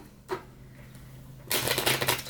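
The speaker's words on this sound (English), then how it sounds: "Let me do a little bit of shuffle." After a couple of soft taps, a deck of cards is riffled, a rapid fluttering burst of flicking cards near the listener.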